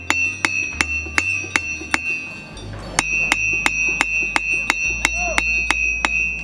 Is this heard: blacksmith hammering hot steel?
yes